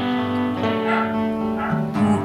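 Dogs bark and yip close by in a room, with a few sharp, strained cries over background sound.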